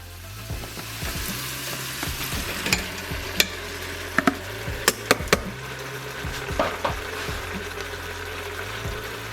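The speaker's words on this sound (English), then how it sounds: "now I'm gonna start putting my chuck roast back in there" Chuck roast searing in a pot with garlic, a continuous close sizzle and crackle with scattered sharp pops and a few clinks of utensils, no voices.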